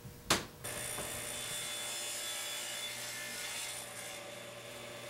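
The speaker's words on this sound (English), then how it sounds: "cut off each of these corners on the fence board so that it can fit closer to the back of the rear fence" Continuous hand sawing through the corner of a wooden fence board for a shop-made miter fence, steady close rasping strokes after a sharp initial knock.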